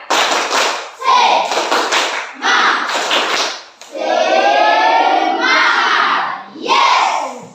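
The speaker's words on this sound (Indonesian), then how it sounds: "Satu kali lagi. Tepuk semangat" A room of students repeats a patterned spirit clap, loud grouped hand claps in a set rhythm mixed with a unison chant of young voices, near and lively.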